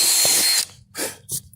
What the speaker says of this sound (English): We'll have to drill the pilot hole for the screw.